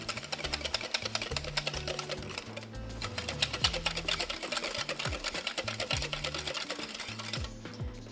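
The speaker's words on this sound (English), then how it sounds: "And more whisking." Sugar and sweetener are being whisked into carrot cupcake batter, a steady fast mechanical whirring with dense rhythmic ticking that runs continuously and close, without any voices.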